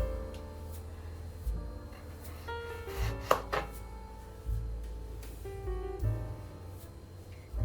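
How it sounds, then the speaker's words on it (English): Potatoes being chopped with a knife on a cutting board, a handful of irregularly spaced, close thuds and clacks over quiet room noise. "After we have chopped our potatoes, now we have already chopped them, they are good."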